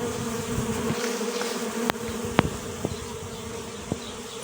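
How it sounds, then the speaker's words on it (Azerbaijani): Bees flying from a nucleus colony as a queen sets off on her mating flight, a steady close buzzing hum broken by a few sharp ticks and taps. "Bu ana arının mayalanma uçuşuna çıxmasıdır."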